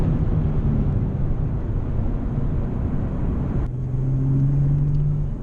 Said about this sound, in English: Now we'll let this Mercedes go past.